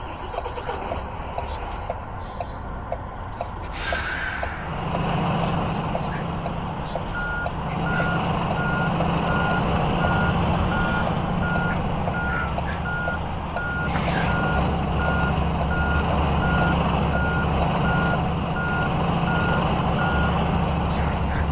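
Reversing beeps from a double-trailer truck in the mobile game Truckers of Europe 3, a steady run of evenly spaced electronic beeps over a low engine hum, with scraping noises early on.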